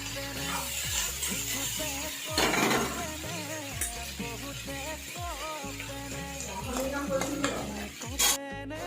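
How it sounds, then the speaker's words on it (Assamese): A spatula stirs roselle seeds frying in a hot wok, with steady close scraping, rattling and faint sizzle throughout and no talking. "এইখিনি কেৰাহীতে দি এতিয়া মই অলপ সময় ভাজি থাকিম"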